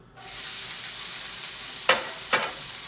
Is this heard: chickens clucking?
no